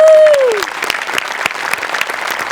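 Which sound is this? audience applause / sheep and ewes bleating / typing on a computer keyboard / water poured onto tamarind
audience applause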